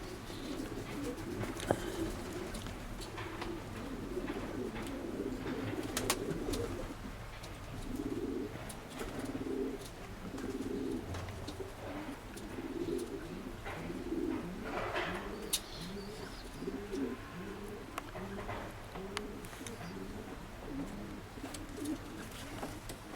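Several Stichelbaut pigeons, an old breed, coo repeatedly in low, rolling calls, close by and fairly soft, with faint rustling and shuffling in the background.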